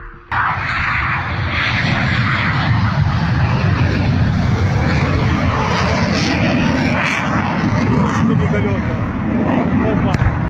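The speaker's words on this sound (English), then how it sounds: "A Ukrainian MiG-29 fighter jet is shown taking off from Mykolaiv Airfield just moments before the runway was struck" A MiG-29 fighter jet takes off from Mykolaiv Airfield with a loud, sustained engine roar that stays steady and close throughout, and a voice talks over it.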